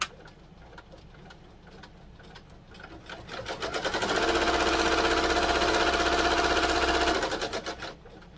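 An embroidery machine stitches an in-the-hoop notebook cover, its rapid needle chatter building from a quiet start into a loud, steady mechanical whirr for several seconds before slowing and tapering off near the end.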